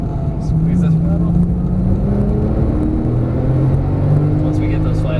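A 2012 Porsche 997 S engine drones steadily while lapping Las Vegas Motor Speedway, its pitch rising gently as the throttle is squeezed. It sounds loud and continuous inside the cabin, with people talking over it.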